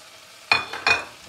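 Dry fruits being stirred and warmed in butter in a pan, with two short scraping, sizzling bursts close by against a quiet background.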